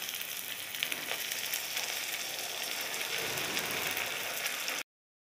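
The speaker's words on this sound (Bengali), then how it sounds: "ভালো করে মশলাগুলোকে কষিয়ে নেবো," Ground cumin, coriander, turmeric and chili powder with a cashew-poppy seed paste sizzle steadily in hot oil for aloo dum, a dense, even crackling hiss that holds close and loud throughout, with no talking.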